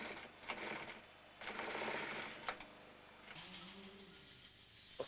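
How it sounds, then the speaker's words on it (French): A sewing machine stitching the finishing touches on wool items, running in close mechanical bursts that stop and restart, with a lower motor whir in the pauses, moderately quiet and with no talking. "tout ce qui est colle et les petites finitions, ça se fait sur la machine à coudre."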